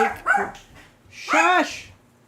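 A dog indoors barks twice in quick succession and then gives a longer, yelping bark, close and fairly loud, reacting to someone at the door.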